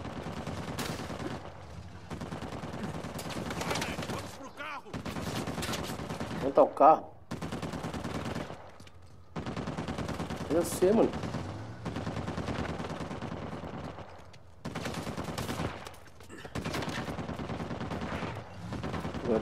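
Bursts of gunfire from the video game Uncharted 4, a few brief sharp shots spaced apart, fairly quiet beneath someone talking over the game.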